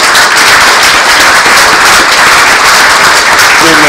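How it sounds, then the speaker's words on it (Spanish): Dense, loud applause from an audience, many hands clapping continuously without pause. "pedir un aplauso a nuestra querida secretaria ejecutiva de la comisión, Charlotte Iverne"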